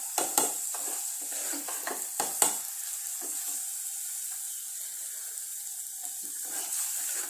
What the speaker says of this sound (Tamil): லைட்டாக கொஞ்சம் அப்படியே வதங்க விடுங்க.